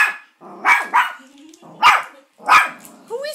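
A pet dog barks at a painting of a grandfather indoors, giving four loud, separate barks with pauses between them, close by. A person's encouraging voice can be heard in the gaps.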